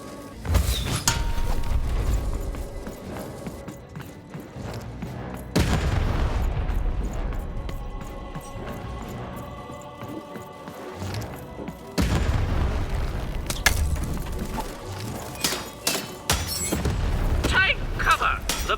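Cannon fire in the video game Lost in Random, several deep booms spaced through the clip with mechanical clanks and game sounds between the shots.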